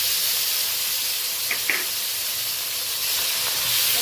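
Tomato, green chili and grated onion sizzle steadily in a frying pan with hot oil and black cumin seeds, a broad continuous hiss with a couple of brief pops partway through.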